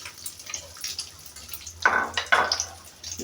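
Potato perkedel patties frying in a pan of oil, with soft irregular crackle and a couple of louder bursts of spatter and scraping partway through.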